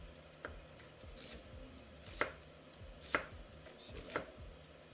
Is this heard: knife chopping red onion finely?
yes